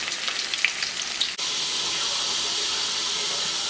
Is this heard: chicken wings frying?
yes